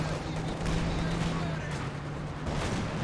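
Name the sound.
Katyusha rocket barrage in Company of Heroes 2 video game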